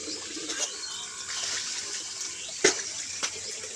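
Water splashes and pours steadily while a cow is washed outdoors on a farm, a continuous wet wash with a sharper splash near the end and no talk over it.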